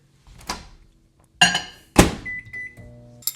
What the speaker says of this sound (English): I'm going to put this in the microwave to melt it.